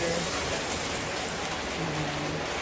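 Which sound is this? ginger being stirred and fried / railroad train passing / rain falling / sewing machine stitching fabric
rain falling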